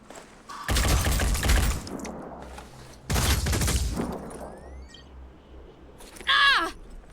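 Bursts of video game gunfire crack out three times: a sustained volley, a second similar barrage and a short final flurry, each loud and close, separated by near-quiet gaps.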